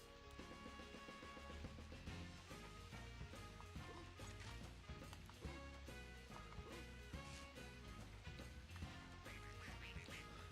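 Ducks quack in a video game made for kids, the calls blended into loud, continuous game music and sound effects with no talking.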